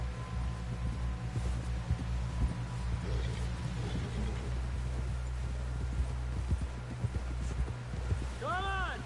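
Horse hooves clip-clop at a steady trot in Red Dead Redemption 2, a soft, rhythmic beat under game dialogue, with a low ambient hum throughout.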